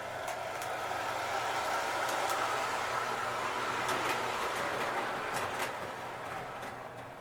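A quiet O gauge model train with rubber traction tires running on 027 track around a layout, a steady low rumble and whir with faint clicks of the rail joints throughout.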